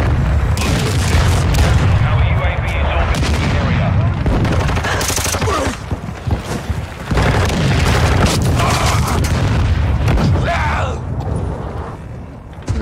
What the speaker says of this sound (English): Rolling flash grenade.